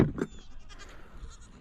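A goat herd on a homestead farm, with a storm brewing: a short, close bleat at the start, then quieter outdoor background with faint animal sounds.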